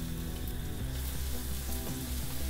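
Twelve or thirteen chopped garlic cloves fry in a pan as the base of a pizza and pasta sauce, giving a steady, close, continuous sizzle with no talking.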